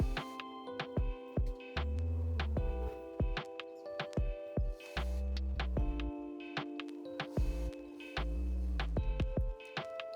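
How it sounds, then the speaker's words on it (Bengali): A sewing machine stitches the cuff of a baby's pant leg, its motor humming in short repeated bursts separated by sharp clicks and brief pauses, close and fairly quiet, with no voices. "একই নিয়মে আমি আরেকটি পার্টের মুহুরি সেলাই করে নিব।"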